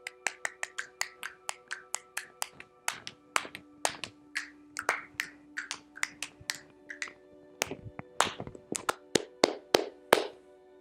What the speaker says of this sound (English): I give him the typical Adam Rants applause